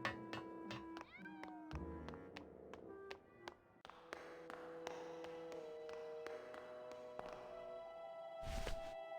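Cats meow repeatedly in the Grim Fandango video game, several short rising cries at a cat-racing venue mixed with light taps and game music tones, fairly faint overall.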